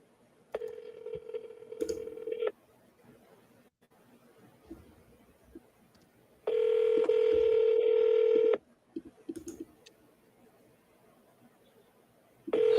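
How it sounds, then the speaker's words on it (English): Steady ringback tones of an outgoing phone call sound in two long bursts a few seconds apart, clear and close, with faint voices and small noises in the quiet gaps between them. "Can you hear that ringing?"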